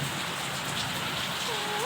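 Heavy rain from a thunderstorm pours down in a dense, unbroken hiss, loud and close, filling the whole moment without letup.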